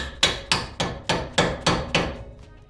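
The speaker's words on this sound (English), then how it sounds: "you can see we're just gonna pound on it a little bit, nice and easy, not too much force." A hammer pounds the lower shock mount bolt out of a 5th-generation Toyota 4Runner, six steady metallic strikes about half a second apart that ring briefly after each blow, with no talking.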